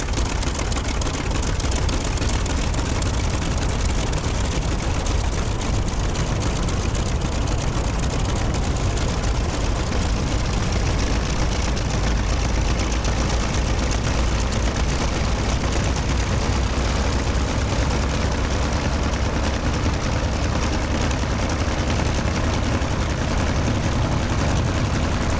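Piston engine of an A-1 Skyraider warplane held at 1600 RPM in Microsoft Flight Simulator: a steady, loud, droning roar with a low throb that stays constant throughout, with no other sound over it.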